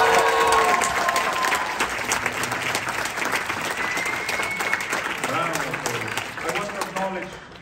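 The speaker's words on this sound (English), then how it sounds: "Un aplauso a Griselda." A film premiere audience applauds a cast member in a long, full round of clapping from a large crowd, steady and loud, while a voice speaks over it near the end.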